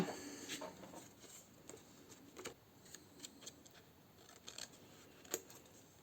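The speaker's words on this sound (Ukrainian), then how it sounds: "Беру ножиці і вирізаю." Scissors cut out a paper wing template, a series of quiet crisp snips and paper rustles at an uneven pace, close but faint, with no voices.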